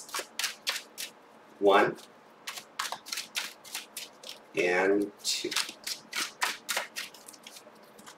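Tarot cards being shuffled by hand in two distinct riffling bursts, with soft card taps between them and a person talking quietly throughout.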